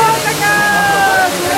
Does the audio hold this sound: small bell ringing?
no